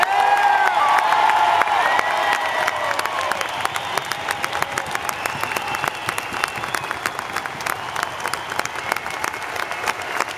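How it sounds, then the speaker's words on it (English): A large arena audience at a Trans-Siberian Orchestra concert in Sacramento claps and cheers, starting with a few whoops and settling into sustained, loud applause that gradually thins out. "how about a round of applause"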